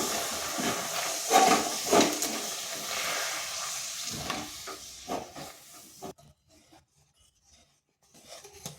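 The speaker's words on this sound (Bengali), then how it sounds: "দুধটা দেওয়ার পর এই যে বুদবুদি উঠছে" Milk hitting hot roasted coconut in a kadai bubbles and hisses loudly at first, with scraping stirs, then drops abruptly to near silence before faint stirring returns.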